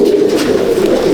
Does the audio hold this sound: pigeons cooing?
yes